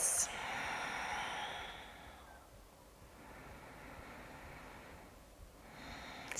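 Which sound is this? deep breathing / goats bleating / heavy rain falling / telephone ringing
deep breathing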